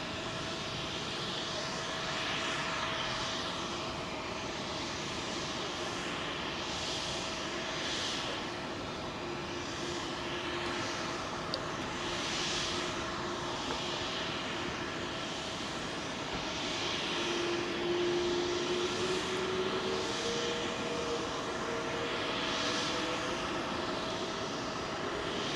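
Jet airliner approaching to land on runway 27L at London Heathrow; a steady, moderately distant engine roar and whine holding for the whole stretch, with no talking.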